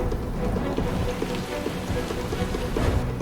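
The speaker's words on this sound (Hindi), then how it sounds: "फिर वरुणास्त्र से बारिश शुरू कर दी।" Dense, steady rain patters hard on surfaces, a continuous close hiss and drumming with no pauses and no voices.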